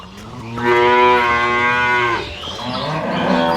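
A dairy cow at a cattle market gives one long, loud, close moo that rises and holds for over a second, then tails into a second lower bellow, with no talk.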